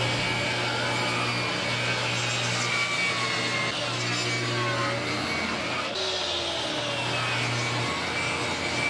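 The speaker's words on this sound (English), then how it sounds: "This will give me a good reference point as I rip these pieces down on the table saw." Table saw ripping pine boards for a guitar body in a workshop, a loud steady whine with a strong low hum running through the whole stretch and shifting slightly as boards feed through.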